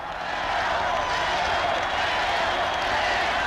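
Baseball crowd noise from Kansas City Royals fans during the seventh inning of the 1980 World Series against the Philadelphia Phillies, a steady, loud, broad stadium roar sustained throughout.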